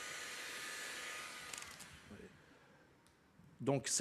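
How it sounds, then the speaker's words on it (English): A heat gun blows a steady, strong airflow while warming vinyl wrap, then cuts off halfway, followed by faint handling noises and a brief voice at the end. "We're going to heat the vinyl evenly to wrap the shape."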